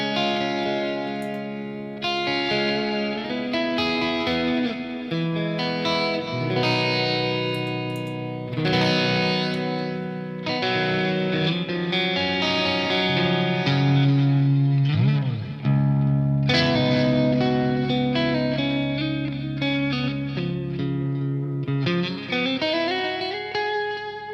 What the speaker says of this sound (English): On some more reverb, we get a different tone altogether.